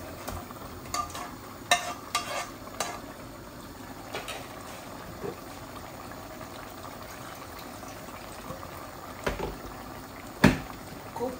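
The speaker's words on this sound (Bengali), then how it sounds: "এখন আমি মাছগুলা ঢেলে দেই।" Fish, an aair catfish dish with bean seeds, goes into a cooking pan: low sizzling and bubbling with scattered clanks and scrapes of utensils, fairly quiet and without speech.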